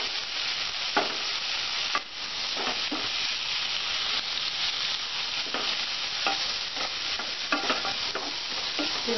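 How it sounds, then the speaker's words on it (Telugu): Sliced onions and soaked chana dal sizzle steadily in hot oil while a spoon scrapes and stirs them in regular strokes, a close, continuous frying hiss throughout. "ఉల్లిపాయలు వేగుతున్నప్పుడే మనం ముందుగా నానబెట్టుకున్న శనగపప్పు కూడా వేసుకుందాం."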